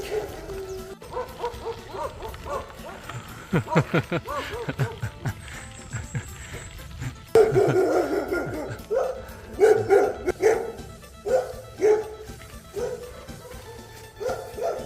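Several dogs bark in Thailand, close and loud, with repeated sharp barks, yips and whimpers in irregular bursts that grow busier toward the end, and a person's voice faintly present.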